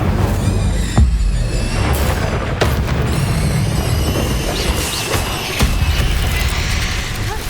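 A fire spell cast in the Hogwarts Legacy video game, heard as a loud, sustained roaring whoosh with booming low rumble and a few sharp cracks running through the whole stretch.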